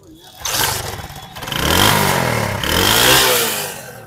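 A used motorcycle engine at a bike market in Karachi starts up and is revved twice, the pitch sweeping up and falling back each time, loud and close, with some low background chatter.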